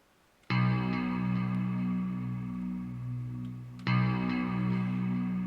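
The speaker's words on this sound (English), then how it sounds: "You hear that FX, the delay, the reverb in it, well designed, engineered." ANA 2 Ultra synthesizer patch with delay and reverb effects: a sustained, rich chord swells in and rings out, then strikes again near the end, with echoing tails and a wide, processed shimmer, alone and without talk.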